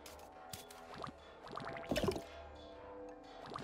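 Water dripping in the video game Fruitbus, a few soft wet drips and small splashes that cluster in the middle, heard quietly over a faint game background with no talking.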